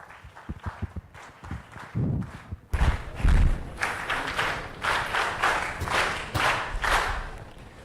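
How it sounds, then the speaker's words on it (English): Applause from an audience at a TEDx youth event swells from scattered claps into a steady, dense round of many hands clapping, with a few dull thumps early on. "Please join me in welcoming Cadet Spurti with a big round of applause."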